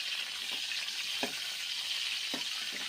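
Stuffed eggplants for gutti vankaya curry cook in a pan with a soft, continuous sizzle, broken by a few gentle stirring scrapes spaced about a second apart, and no one talks.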